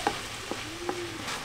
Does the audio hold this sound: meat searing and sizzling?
yes